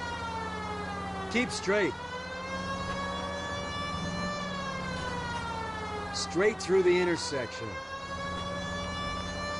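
A police car siren in L.A. Noire wails steadily in the background throughout, rising and falling, while a voice gives short driving directions over it.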